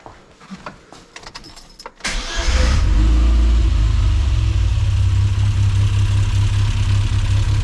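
A Mini John Cooper S Sport with a rough idle catches after a few clicks and handling noises. Its engine then settles into a loud, steady, low idle close by, with no talking.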